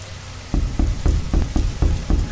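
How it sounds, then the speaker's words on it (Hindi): Heavy rain falling on a stormy night, a steady wash of noise with repeated heavier pulses surging through it and no voices. "और जोरदार बारिश हो रही थी"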